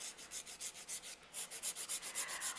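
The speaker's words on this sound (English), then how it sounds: "so I'm filing the side wall, holding the file really straight" Rapid, even back-and-forth rasping of a nail file shaping the side wall of a UV gel nail, about four strokes per second, close and quiet with a brief pause midway and no talking.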